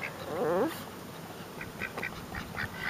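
A duck quacks in a short raspy burst near the start at a pond, followed by softer scattered calls and faint outdoor background noise.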